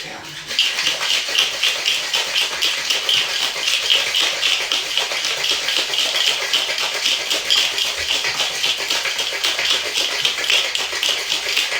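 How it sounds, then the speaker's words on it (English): Ice cubes rattling hard inside a cocktail shaker during a hurricane cocktail, a dense, steady clatter that runs nearly the whole clip without pause and sounds close to the listener. "I'm going to add, if I can fit them, 2 more cubes. And let's shake."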